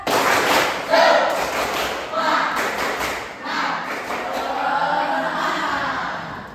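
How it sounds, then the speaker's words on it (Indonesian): A classroom of students in Indonesia claps out a rhythmic spirit clap in hard, thudding bursts, with voices calling out between the beats. "Sekali lagi, tepuk semangat."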